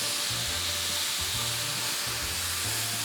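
Mushroom risotto rice in a hot pan as broth goes in, giving a loud, dense, continuous sizzle and hiss with a low rumbling bubble underneath, close and unbroken.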